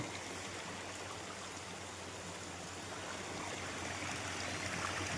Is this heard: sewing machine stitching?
no